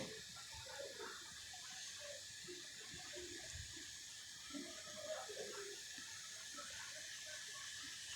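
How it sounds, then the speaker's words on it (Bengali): Water runs and splashes softly into a cooking pot of spiced chicken, a continuous faint hiss with light bubbling, alone in a quiet room. "তো এবার আমি পানি অ্যাড করে নিব ঝোল দিয়ে দিচ্ছি পরিমাণ মতন"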